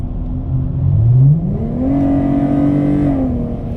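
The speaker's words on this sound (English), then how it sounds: "You can actually hear the exhaust and the cold air at the same time." Dodge Challenger GT with a Cherry Bomb Extreme exhaust and cold air intake accelerating in automatic, a loud, close engine note rising in pitch as the revs climb, then holding a steady droning tone.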